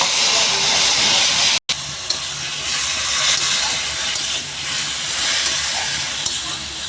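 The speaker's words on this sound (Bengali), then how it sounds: "এবার দেবোতে পেঁয়াজ বাটা, টমেটোর পেস্ট, আদা রসুনের জিরে পেস্ট সব একসাথে দিয়ে দিচ্ছি" Onion paste, tomato paste and ginger-garlic-cumin paste sizzle loudly in hot frying oil with cumin, a steady broadband hiss that continues nearly unbroken except for one brief dropout.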